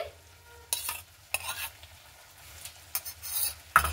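Sour yogurt stirred into cooked masala in a pan makes light sizzling, with several short scraping and clinking bursts of a utensil against metal, close by and separated by quieter gaps, no speech.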